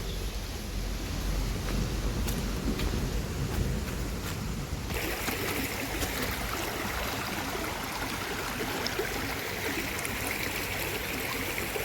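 Running water at an outdoor bathing spot pours and splashes in a steady, close, continuous rush that fills the whole stretch, with no voices.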